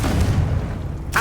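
A Confringo blasting spell explodes in the game Hogwarts Legacy, a short deep boom with a rumbling tail, close and loud, followed by a brief brighter burst at the end.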